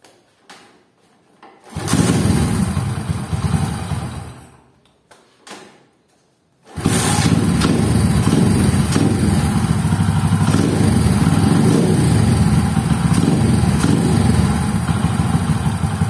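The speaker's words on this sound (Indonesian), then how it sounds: "Jadi inilah suara Honda Wind" Honda Win motorcycle with a bored-up engine, tuned carburetor and lightly modified exhaust: the engine starts, runs briefly, cuts out, then restarts and idles loudly with a steady, rough, throbbing rumble up close.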